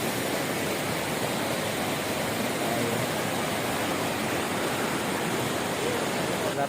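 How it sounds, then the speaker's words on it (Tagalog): Steady, dense rushing roar of Tinoyan Falls waterfall, continuous broadband water noise close by with no breaks. "Tinoyan Falls."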